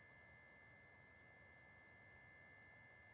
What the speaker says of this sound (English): That ringing noise is not enjoyable.